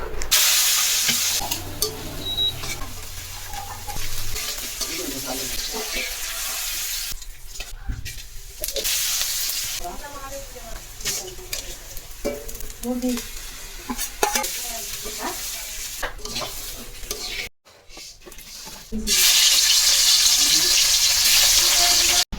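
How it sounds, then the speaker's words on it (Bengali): Goat meat (mutton) cooking in a pot at a home birthday meal, with a bubbling, hissing sizzle and stirring scrapes that run on and off, a short dropout near the end, then a brighter, louder steady hiss. "এখানে খাসির মাংস রান্না হচ্ছে, তাকাও।"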